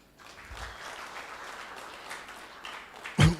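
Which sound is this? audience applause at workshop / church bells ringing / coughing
audience applause at workshop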